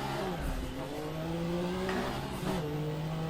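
A car in a racing game driven with a Thrustmaster TH8A shifter runs with a steady engine drone whose pitch rises and dips through gear changes, moderately loud with faint tire noise and no talking.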